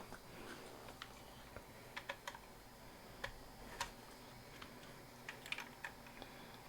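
Light, faint clicks of a computer keyboard tap out in an irregular, sparse pattern during setup of a Raspberry Pi 4 build, the keystrokes ticking alone over a quiet background hiss.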